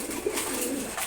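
A brief, low pigeon coo rises close by as the birds are given their morning feed, with no voices over it.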